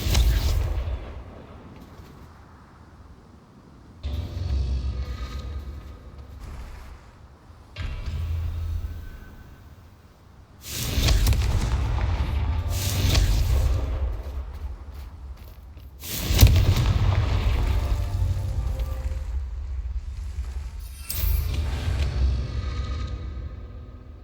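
Confringo fire spell explosions in the video game Hogwarts Legacy, several deep booming blasts at irregular intervals over a low rumbling game backdrop, loud and close.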